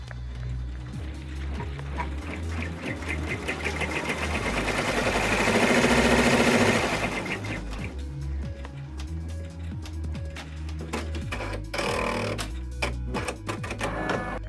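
An embroidery machine stitches an in-the-hoop zipper pouch, a loud steady mechanical whir with a fast needle rhythm that swells in the middle and then settles back to a constant hum.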